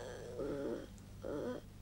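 A dog gives two short, low growling or whimpering vocalizations with a pause between, fairly close against quiet background hum.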